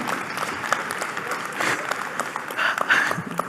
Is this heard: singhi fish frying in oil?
no